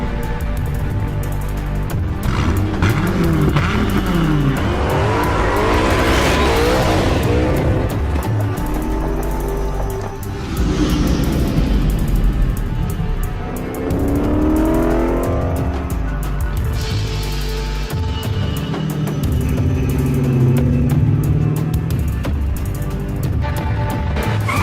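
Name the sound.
Dodge Viper sports car engine revving and tires squealing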